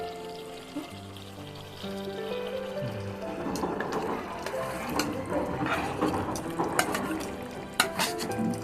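Sour curd, onion and tomato mixture poured into an egg curry in a pan, a close, steady wet stirring and sloshing with faint utensil scrapes building over several seconds.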